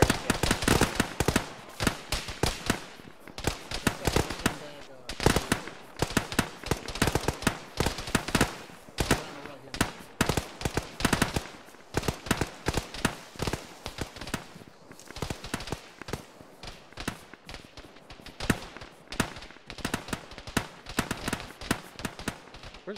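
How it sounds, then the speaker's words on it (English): Sustained cover fire in an Arma military video game, with rapid, dense bursts of gunshots cracking almost continuously at close range, loud and relentless with only brief gaps. "Two, provide as much cover fire as you can."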